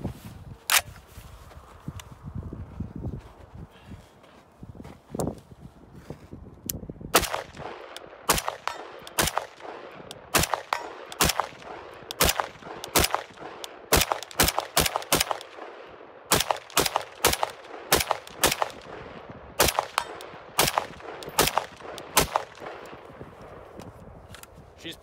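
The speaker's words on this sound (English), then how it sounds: "We're gonna run some ammo." FN SCAR 17 rifle fired at a shooting range, topped with an Aimpoint Pro sight, a long series of sharp, loud single shots at an uneven pace, some in quick pairs, with faint background noise between them.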